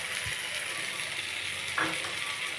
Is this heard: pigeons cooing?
no